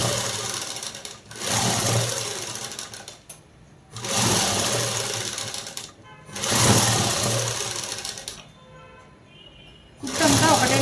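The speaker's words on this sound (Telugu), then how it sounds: "అసలైన క్లాత్ మీద ఇప్పుడు అనేది కుట్టు వేసుకోవాలి" A sewing machine stitches the main cloth of a garment in several loud, whirring bursts of steady needle chatter, separated by brief pauses, heard close up.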